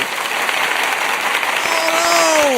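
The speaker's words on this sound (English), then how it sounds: "can we give a round of applause" An audience gives a round of applause at a talk, with dense, loud clapping from a crowd throughout and a sliding tone rising out of the noise near the end.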